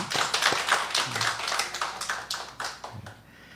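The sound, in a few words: applause welcoming newcomers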